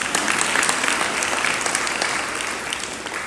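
A hall audience at a religious discourse claps steadily in a dense, even wash of applause that fades slightly toward the end, with no talking over it.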